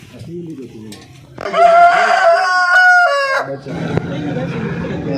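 An Aseel rooster in Mianwali gives one loud, close crow lasting about two seconds. Softer clucking and background farm noise come before and after.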